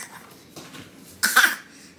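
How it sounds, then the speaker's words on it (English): A baby coughs once sharply and close, after a few soft breathy sounds. "Why are you coughing like that"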